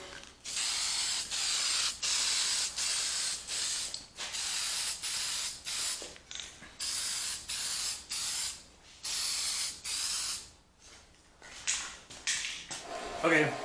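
Clear coat sprayed from an aerosol can in rapid repeated bursts of loud hissing, short pulses separated by brief pauses with faint rattles between, close to the microphone.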